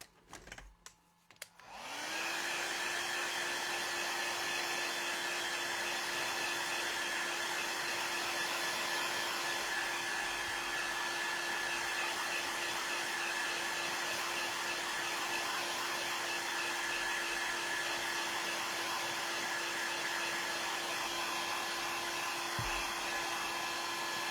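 A hair dryer switches on after a brief rustle and blows a steady, close whirring hiss for over twenty seconds while drying paint on a bowl.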